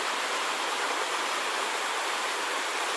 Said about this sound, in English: waterfall, maybe.